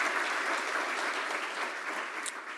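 Audience applause at a Rotary Club of Tulsa awards event, a steady, full-room clapping that holds evenly throughout with no voices over it.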